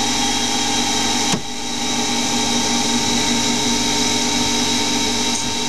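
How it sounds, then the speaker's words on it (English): CNC lathe cutting a 0.75 pitch thread in a brass solenoid nut at 3000 RPM, a loud, steady machine whine and hum with a brief dip near the start. "There we are, cutting a thread at 3000 RPM."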